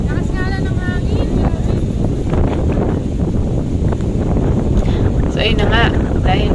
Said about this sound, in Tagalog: Lakas nga lang ng hangin.